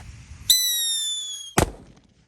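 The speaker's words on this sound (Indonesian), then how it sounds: "kita nyalakan mercon Whistling King Thunder guys, ini yang beledosnya banter ya" A Whistling King Thunder firecracker lets out a sustained high whistle for about a second, then ends in a single sharp, loud bang that fades quickly.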